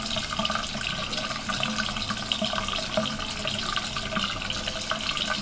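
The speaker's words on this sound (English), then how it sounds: "Just rub it a little bit under the water." A makeup brush rubbed against brush-cleanser crystals under a running tap gives a steady, close, continuous wash of splashing water with faint scrubbing texture and no voices.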